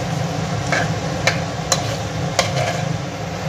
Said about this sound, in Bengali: কষতে হবে যতক্ষণ না মশলা থেকে তেল বেরোচ্ছে।